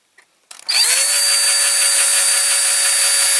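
A small power drill starts with a click and spins up to a steady high whine as it bores out the side lights of a Britains British Army covered tender model. It runs loud and close without a break.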